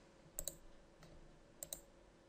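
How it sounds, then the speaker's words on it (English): Two quick pairs of crisp mouse clicks, faint and close, separated by about a second of quiet room tone with no talking. "Select the picture you want by clicking on it and then clicking on Insert."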